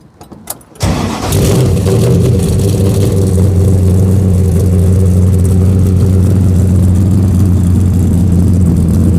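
Car engine catches on a cold start after a brief crank, then settles into a steady, loud idle with a constant low hum that holds for several seconds, close by and with no talking.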